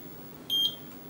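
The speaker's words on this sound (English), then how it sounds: "That initial beep is just some cap de-energizing." A multimeter continuity beep sounds during a repair on a TG-CD dock for the TurboGrafx-16 as a capacitor de-energizes: one short, high electronic tone, brief and clean over a quiet background.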